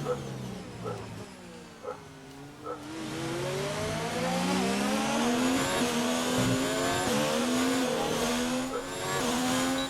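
An F1 2019 race car on its in-lap in the video game, its engine note rising and falling through gear changes, starting quieter and then swelling to a loud, sustained high rev with steady upward sweeps.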